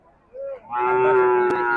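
A heifer calf at a cattle market lets out a short low call, then a longer, louder moo, close by and clear.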